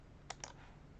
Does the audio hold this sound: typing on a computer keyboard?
yes